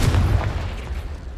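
The Confringo explosive spell going off in Hogwarts Legacy, a single loud booming blast at the start that rumbles low and decays over about a second.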